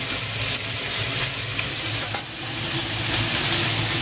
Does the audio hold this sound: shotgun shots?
no